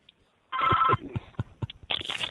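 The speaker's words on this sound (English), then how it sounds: "I got a phone ringing on me." A telephone rings in short bursts, a bright electronic trill heard twice at moderate loudness with quieter clicks and fragments between the rings.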